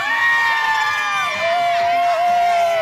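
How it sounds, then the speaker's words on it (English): Spectators lining a Fourth of July parade route in Ketchikan, Alaska, yell, whoop and cheer together in a loud, sustained burst close by, with children's shrill voices rising and falling through the noise. "Hey, you guys, yell for the camera."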